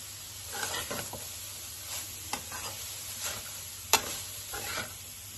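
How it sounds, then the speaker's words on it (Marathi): Grated carrot for carrot halwa being roasted dry without ghee in a pan on high flame, with soft intermittent stirring scrapes and one sharp clink over a quiet sizzle. "हाय फ्लेमवरच मी थोडं भाजत आहे"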